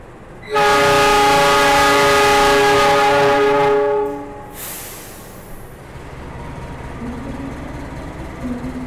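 A loud, sustained train horn blasts for several seconds as the Malabar passenger train departs, then the low rumble of the train moving off continues beneath steady background noise.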